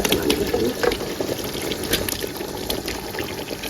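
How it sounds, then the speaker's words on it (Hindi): Chicken tikka pieces tip into a handi pot for a village-style chicken tikka handi, giving a steady wet, sizzling, pouring-like wash with a denser burst near the start, alone and close. "ये जो चिकन है जी ये मैंने अब डाल दिया है इसमें जी"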